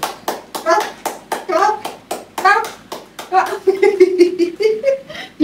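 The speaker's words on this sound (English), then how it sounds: "Clap" Rhythmic hand clapping at home, roughly a dozen sharp claps at an even pace, close and loud, interleaved with a voice and playful vocalizing throughout.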